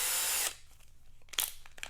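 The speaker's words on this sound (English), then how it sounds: "I'm going to start with a 1/4 inch drill bit." Power drill fitted with a 1/4 inch bit boring a pilot hole through a gas can spout: a loud, steady whine for about half a second that stops abruptly, followed by faint scraping and light clicks.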